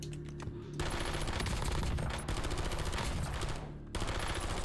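A gun in a video game fires loud, rapid automatic bursts that run almost continuously, with two brief pauses between volleys and no talking.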